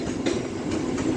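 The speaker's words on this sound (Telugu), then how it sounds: "కళ్యాణ్ సైడ్ వెళ్ళే ట్రైన్." A Mumbai Central Railway local train bound for Kalyan rumbles past on the line between Dadar and CSMT, a steady, close, loud roar of wheels and carriages with faint rhythmic clatter.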